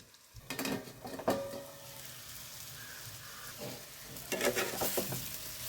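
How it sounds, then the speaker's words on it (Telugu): Ivy gourd (dondakaya) pieces cooking in a pan: a steady soft sizzle with bursts of scraping and stirring near the start and again toward the end. "మధ్య మధ్యలో కలుపుకుంటూ దొండకాయలన్నీ మెత్తగా అయ్యేంత వరకు ఉడికించుకోవాలి"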